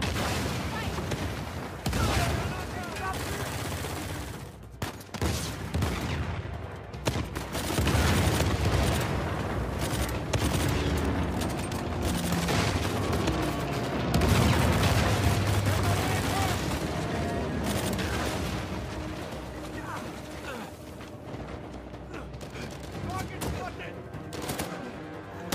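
Continuous gunfire and explosions from a boss fight in the video game Uncharted 4, loud and dense throughout, with bursts and booms layered under someone talking.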